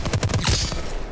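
PPSh submachine gun firing in the Call of Duty WWII game: a short, rapid burst of shots in quick succession, loud and close, ending in a brief echoing tail.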